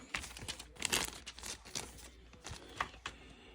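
Paper crinkles and tears in short, uneven bursts while a 1973–77 Dodge Charger model car kit is unwrapped, close and moderately loud with no talk over it.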